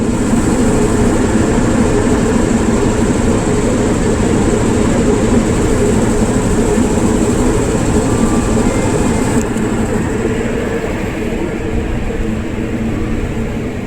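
Ride aboard the Shirdi Mysuru Express hauled by a diesel locomotive, a loud, steady rumble of rolling coaches and engine drone throughout, close and continuous with no talk.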